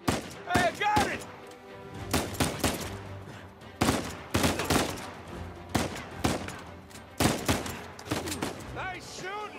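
Bursts of gunfire in the Uncharted 4 video game, rapid volleys and single shots cracking out in clusters across the scene, loud and close, with voices talking between the shots.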